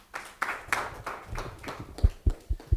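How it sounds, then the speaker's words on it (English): Scattered applause from a small audience: a handful of distinct, irregular claps, some sharp and close, tapering off over a few seconds. "Give her a round of applause"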